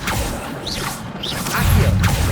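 Accio summoning spell cast in Hogwarts Legacy, a swishing magical whoosh with a mechanical shimmer and a rising rumble toward the end, all in about two seconds with no talk.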